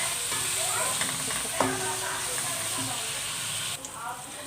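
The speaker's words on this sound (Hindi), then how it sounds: "तो हम इसको फ्राई कर लेते हैं अच्छे से" Onions frying in a pan for aloo karela sabzi, a steady soft sizzle and hiss with an occasional stirring clink, quiet and close.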